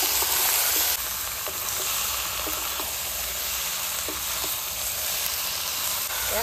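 Meat dropped into fried masala sizzling loudly in a hot pan, a steady dense hiss with faint stirring scrapes, close and continuous.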